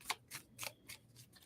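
Tarot cards riffled in a few quick bursts, soft papery rustles with short pauses between them, fairly faint and with no talking.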